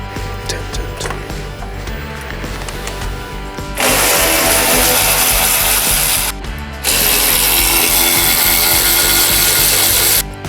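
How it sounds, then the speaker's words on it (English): A loud power drill removes bolts from a V-twin cruiser motorcycle in two long bursts with a short pause between, after a stretch of clattering, grinding workshop noise. "I'm gonna get my drill."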